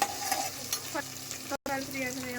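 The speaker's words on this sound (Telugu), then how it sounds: "దాన్ని కలపాలి వేగేంతవరకు కలపాలి." Green chillies being stirred as they fry in a pan for eggplant curry, a close, crackling sizzle with scraping stirs, broken by a brief silent gap near the end.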